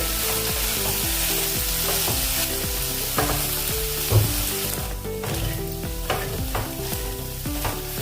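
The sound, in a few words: soybean mixture being roasted and stirred in a pan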